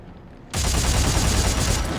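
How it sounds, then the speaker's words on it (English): Dead Space 3 rivet gun from the video game fires its bolts in a rapid, loud automatic burst that starts abruptly and continues as a dense, steady chatter of shots. "it shoots a little chain gun of like bolts, rivet ammo, like spikes"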